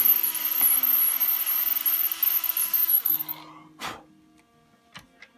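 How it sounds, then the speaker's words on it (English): A power drill bores into the body of a Squier Bronco bass guitar, a steady high whine running for about three seconds before spinning down, followed by a couple of faint knocks, close and alone without voices. "just pop the surface and we'll drill it into the wood"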